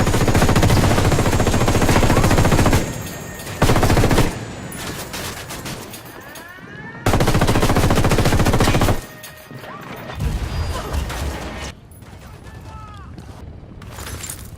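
Loud automatic gunfire in the video game Ghost Recon Wildlands comes in long sustained bursts, broken by quieter gaps filled with scattered shots and clatter.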